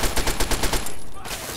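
Rapid automatic gunfire rattles in Fallout 3, a fast even burst of about a dozen loud shots followed by a short lull and a fainter shot or two.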